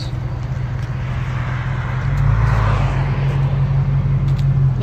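A 1995 Ford Mustang GT convertible with a 5.0L V8, high-flow cats, X-pipe, Flowmaster Super 10 mufflers and 4-inch tips idles close by with a deep, steady low rumble that swells slightly partway through.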